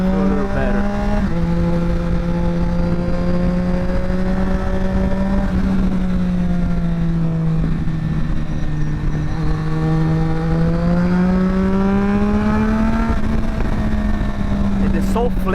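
A Triumph Daytona 765 motorcycle engine pulls in first gear around 30 mph, then shifts up to second, its loud, close whine rising and dipping under wind noise.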